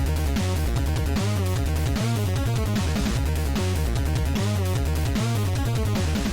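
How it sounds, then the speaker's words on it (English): Chiptune soundtrack from the NES action game Silver Surfer plays loud and busy, with a fast, driving bassline and rapid, bright square-wave melody pulsing continuously, no voices. "What you're hearing now is a song from Silver Surfer on NES"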